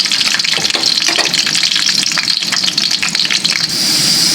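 Beef browns in a pan for pochero, giving a loud, close, continuous sizzle with crackling bursts and stirring, ending in a steadier hiss.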